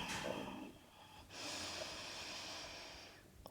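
Deep breathing during a beginner standing yoga sequence: a short inhale, a brief pause, then a long steady exhale lasting about two seconds, close and fairly soft with no talking.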